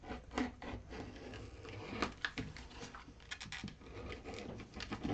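Small fabric snips cut through two layers of cloth at once, giving a quiet, steady scratchy rasp with soft repeated clips and rustles, close up with no talking.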